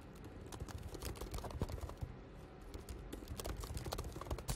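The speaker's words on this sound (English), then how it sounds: "You simply type in the name of the project" Typing on a computer keyboard, a quiet, fairly rapid run of soft key clicks continuing steadily throughout, close and alone with no talk.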